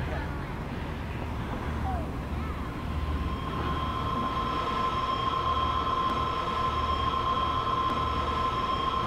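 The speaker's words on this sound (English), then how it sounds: "You can hear the warbling is the data." Radiosonde data signal from a radio receiver just after a flight launch: a steady warbling electronic tone with bright overtones holds throughout, over a constant low rumbling background, with no talking.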